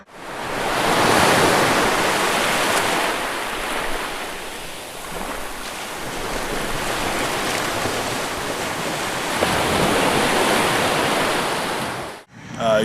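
Steady broadband rush of water like a waterfall or surf, continuous and fairly loud, ending abruptly near the close.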